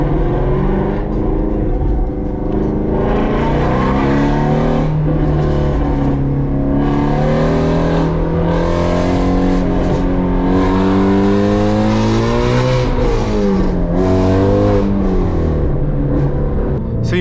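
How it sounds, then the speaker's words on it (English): A Ford Shelby GT350 V8 with its exhaust valves closed revs loudly and steadily, with rising and falling engine pitch through repeated pulls, close and constant, with no talking. "I close the valves, the motor noise, there's just so much more motor noise"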